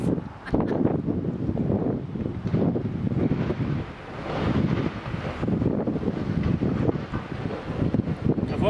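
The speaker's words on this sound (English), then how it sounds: "we brought it out into the wind to see if it works in real life." Wind blows outdoors across a small horizontal wind turbine being tested, a steady, close buffeting rumble that covers the whole stretch with slight swells and dips.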